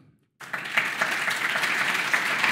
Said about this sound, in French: Vous pouvez d'ailleurs vous applaudir.